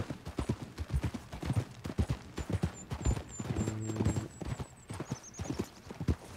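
A horse's hooves clip-clop in a steady trot through a Red Dead Redemption 2 game scene, broken by a long whinny partway through, over a low ambient background.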